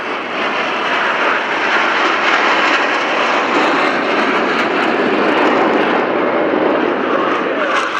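An MB-339 jet trainer roars overhead at the RIAT Fairford airshow with a loud, sustained engine blast that stays strong and steady throughout.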